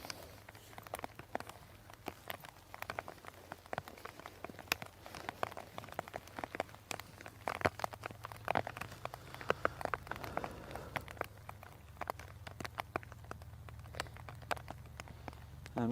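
Rain falls on an outdoor golf course as steady patter, with many sharp drops and light taps striking nearby surfaces throughout, moderately quiet and continuous.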